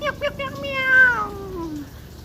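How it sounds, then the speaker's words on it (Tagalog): A cat gives a few short meows, then one long drawn-out meow that rises and slowly falls away, fairly close and clear with a faint background murmur. "Sabi niya, meow, meow, meow, meow,"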